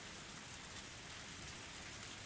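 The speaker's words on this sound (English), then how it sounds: "With the rain hitting me like a waterfall" Rain falls heavily in a Higurashi visual novel scene as a steady, even hiss of downpour without pauses, played softly on its own.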